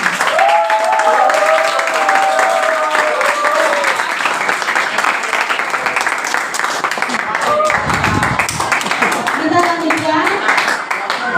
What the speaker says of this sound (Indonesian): Tepuk tangan untuk kelas 9A.